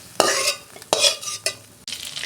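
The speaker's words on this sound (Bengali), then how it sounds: "মাছ আমার ভাজা হয়ে গেছে" Fried fish in hot oil sizzles in a pan, broken by several sharp scraping strokes of a utensil as pieces are turned or lifted out, close and fairly loud.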